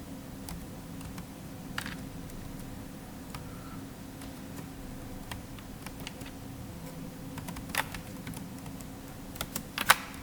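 Code is typed on a computer keyboard in soft, irregular key taps over a low hum, with a brief cluster of sharper clicks near the end.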